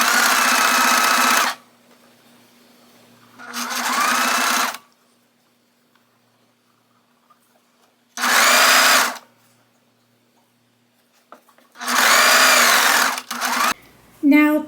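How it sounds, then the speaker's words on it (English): Sewing machine running a half-inch straight stitch around a T-shirt neck band seam, in four loud mechanical bursts of a second or two each, separated by near silence, with a faint rustle at the end. "I'm first going to stitch a 1/2 of an inch straight stitch all the way around"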